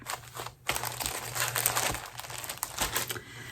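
Gold Rush fabric folded back up, a steady crinkling and rustling of cloth handled close by, with a brief quiet pause near the start and no talking.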